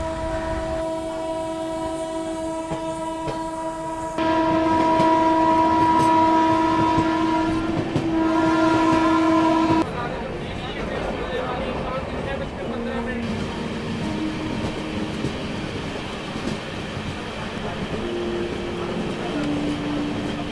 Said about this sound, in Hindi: अपनी ट्रेन निकली है बनारस रेलवे स्टेशन से